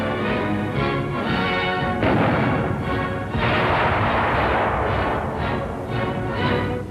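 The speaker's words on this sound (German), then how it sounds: "Panzerfaustschießen in einer deutschen Stadt." A Panzerfaust anti-tank weapon is fired in a German town, producing heavy booming blasts with crashing impacts and rumbling echoes in a noisy, old-fashioned wartime newsreel recording.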